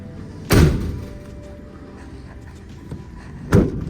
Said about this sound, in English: Those doors close nice.